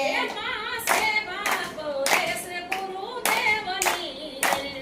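Hands clapping in steady rhythmic bursts along with a sung Gujarati devotional bhajan, the clear claps cutting through the melodic singing voice at close range.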